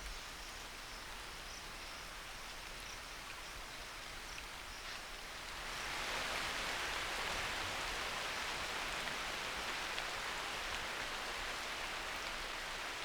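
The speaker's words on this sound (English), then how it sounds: "At daybreak, the rain resumes." Steady rain falls at daybreak in a region ending a long dry spell, a soft even hiss that swells noticeably louder about halfway through.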